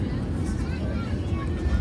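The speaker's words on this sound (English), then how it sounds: "Here we go, we're revving up." Airliner jet engines rev up for takeoff in a deep, continuous rumbling roar heard from inside the cabin.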